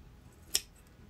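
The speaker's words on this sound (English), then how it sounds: "we are going to use is a pair of scissors" A pair of scissors makes a single quick, crisp snip through tulle, close and brief against a quiet background.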